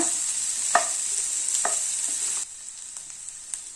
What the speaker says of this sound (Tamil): இதை லேசா மிக்ஸ் பண்ணிக்கோங்க